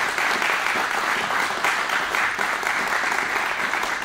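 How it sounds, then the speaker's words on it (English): An audience claps in a steady, dense round of applause at a public announcement on legalizing hemp, sustained at a fairly loud, even level throughout with no voices on top. "Please give them a round of applause for your help as well."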